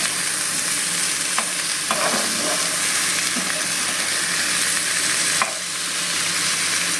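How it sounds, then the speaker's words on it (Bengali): Katla fish with salt sautéing over a medium gas flame, a steady close sizzle with occasional scraping stirs throughout, no voices. "গ্যাসের ফ্লেমটাকে এবার মিডিয়ামে রেখে আমি এটাকে ভালো করে কষিয়ে নেব"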